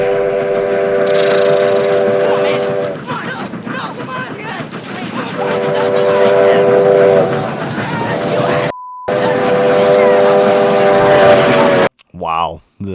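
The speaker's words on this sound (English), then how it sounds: "the train, the locomotive sound just drowning out their argument" Locomotive train passing in the film Stand by Me, a loud sustained roar with steady whistle-like tones, dropping out briefly near the end with talking after.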